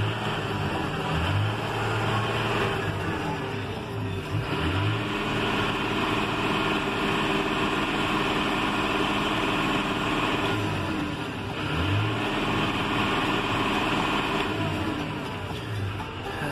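A John Deere 6150M tractor engine runs continuously at a steady, loud, close drone with a slight rhythmic throb, heard alone without talk.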